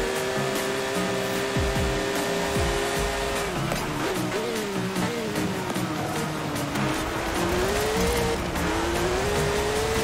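Subaru rally car engine from Forza Horizon 4, revving hard and steady with rising and falling pitch through gear changes, loud and continuous with tire noise, no talking over it.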